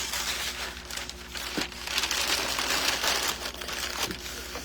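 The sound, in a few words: paper being removed and crumpled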